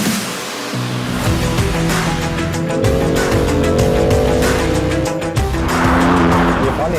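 A BMW M2 CS with a carbon-fibre bonnet and roof drives hard on narrow Eifel roads, its engine droning loud and steady with rising and falling revs and brief tyre squeal throughout.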